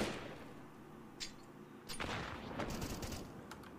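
Gunfire exchange in the first-person shooter Counter-Strike, with a few sharp shots followed by a denser burst of rapid fire, heard at moderate level under a low game ambience.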